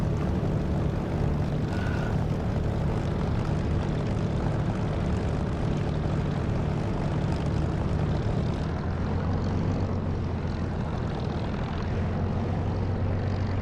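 A propeller aircraft engine in the DCS flight simulator video game drones steadily and loudly, its tone gradually shifting as throttle increases, with no speech.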